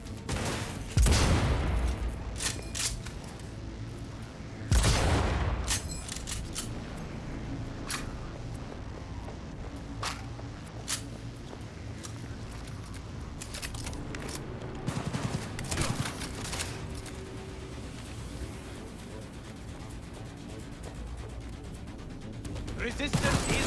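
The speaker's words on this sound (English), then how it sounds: "Keep firing, goddammit!" Gunfire in the video game Cyberpunk 2077: sharp bursts and volleys crack out near the start, around five seconds and again near fifteen seconds, over a steady bed of game ambience and mechanical noise.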